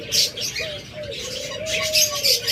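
A dove gives a soft, drawn-out coo, while brief higher chirps from other caged birds sound around it at close range.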